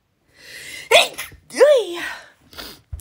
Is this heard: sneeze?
yes